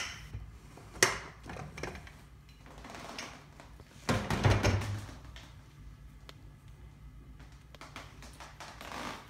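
A cooled pressure cooker holding vegetable pulao has its lid worked open. A sharp metallic click comes first, then a louder clunk and scrape a few seconds later, with quiet handling noises in between.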